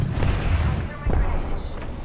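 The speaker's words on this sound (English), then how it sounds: "Throwing Archstar." An Arc Star grenade explodes in Apex Legends, delivering a booming, rumbling burst amid continuous dense battle noise, with voices faintly present throughout.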